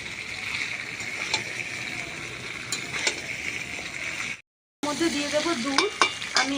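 Vegetables for Bengali shukto being stir-fried in a pan, a steady close sizzle with stirring scrapes throughout, broken by a brief silent gap before the frying resumes.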